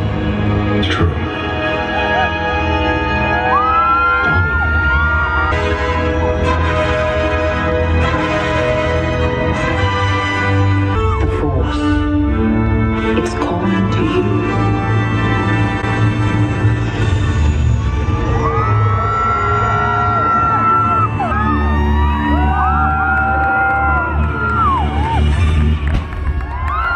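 A large crowd cheers and calls out continuously at Disney's Hollywood Studios as Star Wars Rogue One Death Troopers depart, dense and loud throughout, with music playing underneath.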